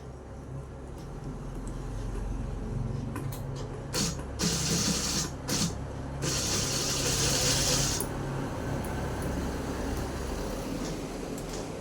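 A sewing machine stitches a side seam in a garment, running in a few short bursts of fast, whirring needle clatter over a continuous background hum, close and moderately loud.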